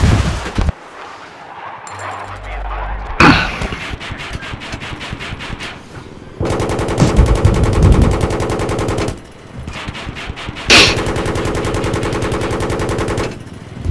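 Heavy automatic gunfire from a tank and helicopter gun in a video game, loud rapid bursts in several long stretches separated by brief pauses.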